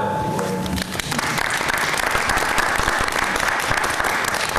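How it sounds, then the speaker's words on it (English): Audience applause fills a school committee meeting, a dense, loud, steady patter of many hands clapping that swells after a brief lead-in. "So round of applause for them."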